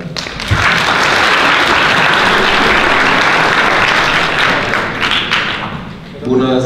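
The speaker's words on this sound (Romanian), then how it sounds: "Hai să-l aplaudăm" An audience at a business success-story event breaks into loud, dense applause that holds steady for several seconds, then thins briefly before a voice begins speaking at the end.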